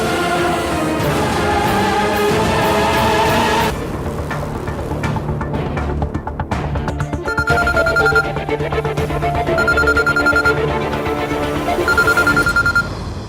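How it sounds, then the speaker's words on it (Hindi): A mobile phone rings again and again in a busy room, its electronic tone repeating in bursts over a dense bed of background music. "इश्की की मासी का फोन बार बार बज रहा है"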